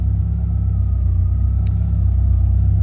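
Ethanol-fuelled car engine idling steadily, a deep continuous rumble heard close up from inside a GTI with no talk over it.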